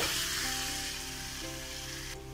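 Biryani masala being sautéed in a pan for egg biryani, a steady close sizzle of frying under a low, humming background tone, brief and unbroken, with no talking.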